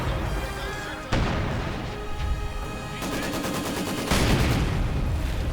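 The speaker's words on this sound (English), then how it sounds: "Under intense artillery fire." Artillery and mortar fire pounds away in a video game, dense volleys of booms and cracks that swell louder partway through and pile into a continuous barrage.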